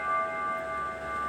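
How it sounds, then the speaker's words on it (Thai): A bell rings with a sustained, steady metallic tone that hangs in the air for just over a second, fairly quiet and with no voices. "เมื่อกี้ตกเสียงระฆังนะครับพี่ๆกับสะดุ้งเลย"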